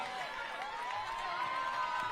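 A crowd cheering and whooping for a costumed dog at the Fiesta Pooch Parade, an outdoor pet costume contest, a continuous distant roar with scattered whistles and shouts.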